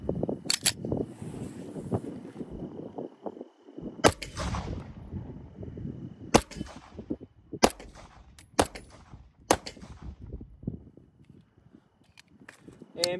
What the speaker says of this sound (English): next up we're gonna be shooting the Staccato XC 9mm full metal jacket